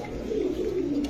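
Low, soft cooing from a tagged hen pigeon belonging to a racing club, a steady murmuring call held for about a second, close by with no talk.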